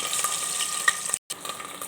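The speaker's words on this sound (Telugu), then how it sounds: "ఆనియన్స్ కొంచెం రెడ్ అయ్యాక అల్లం పేస్ట్ వేసుకున్నాను." Onions and ginger paste frying in hot oil in a cooker for a potato and peas curry give a steady, close crackling sizzle, with a brief cut to silence partway through before the frying resumes.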